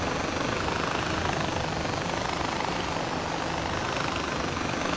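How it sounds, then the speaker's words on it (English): Helicopter in the video game Far Cry 4, a steady loud rotor and engine roar that holds constant throughout without pause. "Man, this helicopter does not seem safe."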